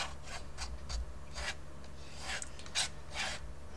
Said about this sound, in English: Feeling like a scraper might be a good tool to use now, so I'm getting my scraper out